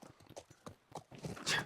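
Horse hooves clip-clop in The Last of Us Part I, a quiet run of separate hoof strikes that bunch into a busier, louder patter near the end, with no voices.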